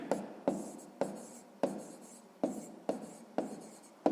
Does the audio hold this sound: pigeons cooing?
no